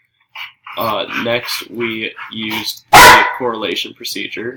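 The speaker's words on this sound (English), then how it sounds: "Sorry, that's my dog." A pet dog indoors lets out one sudden, loud bark partway through someone's spoken presentation, with talking continuing steadily before and after it.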